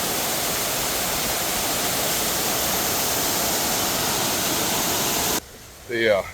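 Clear spring water gushes steadily out of the top at Blanchard Spring, a loud continuous broadband rush that cuts out near the end, followed by a brief voice.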